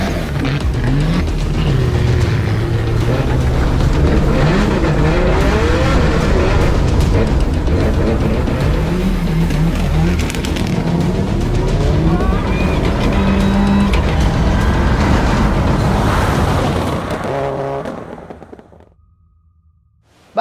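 Rally car on a sprint rally stage at Tanjung Lesung, driven flat out: a loud, sustained engine roar with rising and falling revs through gear changes for most of the run, then cutting out abruptly near the end.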